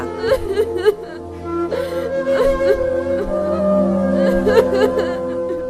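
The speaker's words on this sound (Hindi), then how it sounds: "तभी राजकुमार को एक महिला के रोने की आवाज सुनाई दिया।" A voice cries and whimpers in a dense forest as a cartoon story sound effect, sobbing phrases rising and falling over a sustained musical tone, with no spoken words.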